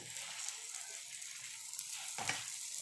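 Gondi flower buds frying in a pan give a soft, steady sizzle, with one brief stir or clatter near the end.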